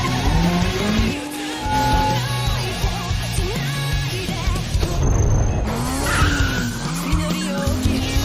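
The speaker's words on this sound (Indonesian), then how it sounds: "mobil yang Cat kendarai mengalami kecelakaan dan terbalik" A car in a film chase skids with screeching tires and roaring engine, loud and close, the squeals rising and falling over about eight seconds amid dense action-soundtrack noise.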